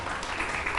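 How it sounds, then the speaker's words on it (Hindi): A studio audience at a Pakistani celebrity interview breaks into a brief, steady burst of applause, a dense wash of clapping with no voices over it. "सारा के लिए पहले तालियां बजाए ना।"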